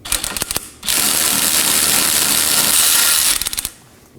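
Removing a rear suspension knuckle bolt on a 2018-2024 Chevrolet Equinox: quick ratchet clicks, then a loud steady whirring tool run lasting a few seconds, followed by another burst of ratcheting clicks, close and loud.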